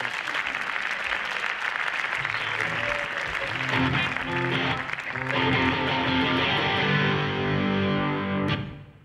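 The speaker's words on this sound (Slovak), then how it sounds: "tam môžete zatleskať, kedy chcete" A live audience claps loudly and continuously through a sung protest-song parody at a New Year's Eve comedy show, the applause blending with the music before fading out at the end.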